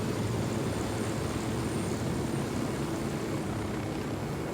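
A helicopter in the Ghost Recon Wildlands video game, a loud steady rotor and engine roar with broad noisy wash that holds constant for the whole stretch, no voices.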